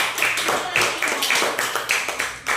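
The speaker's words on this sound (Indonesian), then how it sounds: "Tepuk tangan dulu." Schoolchildren in a classroom clap their hands together in a quick rhythmic pattern, with bursts repeating about twice a second, fairly close and loud, and voices mixed in.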